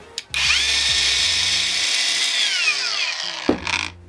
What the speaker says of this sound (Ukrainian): Як ви почули, болгарка має плавний пуск.